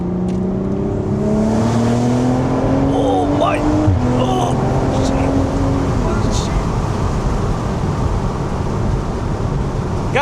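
A BMW engine revs and climbs through the gears, its pitch rising steadily and then dropping at each upshift. The sound is loud and close, heard from inside the cabin.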